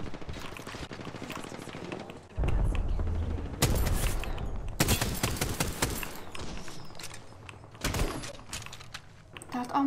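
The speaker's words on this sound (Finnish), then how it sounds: "Täältä ammutaan nyt joka puolelta." Bursts of rapid gunfire crackle in waves in the game Apex Legends, several loud volleys with brief pauses between them, dense and chaotic like a busy firefight.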